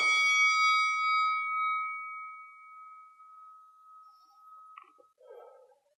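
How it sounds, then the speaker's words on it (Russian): A boxing round timer rings one loud, clear bell-like ding that rings out and slowly decays over several seconds, followed by a few faint clicks and a soft rustle near the end. "использование боксерского таймера очень классная вещь"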